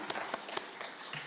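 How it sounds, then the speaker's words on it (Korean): A church congregation claps during a Parents' Sunday service, a soft, steady patter of applause heard from a distance. "박수 주시기 바랍니다."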